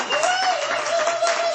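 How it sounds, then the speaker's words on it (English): Audience applause for a Rastafari elder at a talk, a dense steady wash of clapping with whoops and a sustained cheering voice running through it, continuous and fairly loud for the whole moment. "Let's give a big round of applause to this beautiful Baba."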